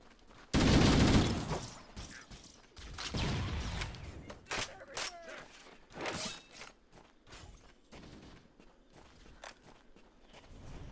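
Assault rifle fire from Halo: Combat Evolved, a loud dense burst near the start followed by scattered sharper shots and footsteps across the rest of the stretch.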